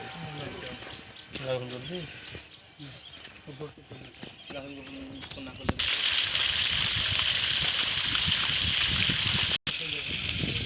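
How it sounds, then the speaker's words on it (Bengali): A solar-powered submersible pump on Bangladeshi farmland in Diara Khandapur starts up after several seconds of talk, then water gushes out in a loud, steady rush close by. "এই যে আমাদের গোলাপ ভাইয়েরই সাবমার্সিবল পাম্পটি চালু করলাম আমরা সোলার সিস্টেম দ্বারা।"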